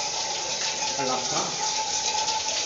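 Hot water running steadily for a bath, a soft continuous splashing hiss under a brief spoken voice.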